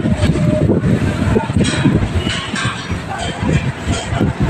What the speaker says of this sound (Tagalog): Lakas ng hangin dito mga boss.